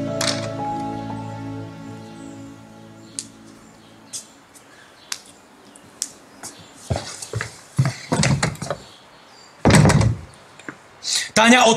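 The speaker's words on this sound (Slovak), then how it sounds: "Táňa, otvor tie dvere, lebo ich vyrazím." Knocking and banging on an apartment door in a heated lovers' quarrel, arriving as scattered loud thumps that build into clustered pounding, with a voice shouting between the blows.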